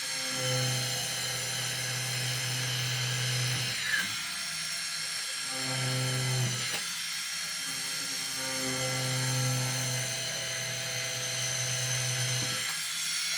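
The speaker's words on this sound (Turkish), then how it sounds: "Şimdi noktaladığımız yerden deliyoruz." A small high-pitched drill with a 0.8 bit whines in long bursts, stopping briefly between holes, close and steady with a faint rattle.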